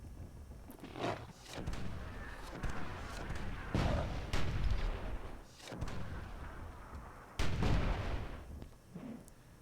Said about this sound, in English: We see a platoon of Dwarven mortars blowing up Overdose.